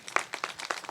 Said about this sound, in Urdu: زبردست اور بھرپور تالیاں ہونی چاہیے.